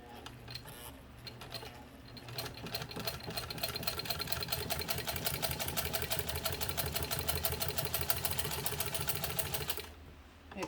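A 1948 Singer 15 sewing machine stitching through two layers of leather runs at a rapid, even mechanical clatter for most of the clip, with a quieter start and a stop near the end.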